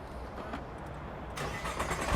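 A 2014 Nissan GT-R engine starting, a rising mechanical burst that swells loudest at the end over a steady low idle-like rumble, heard up close with no talking.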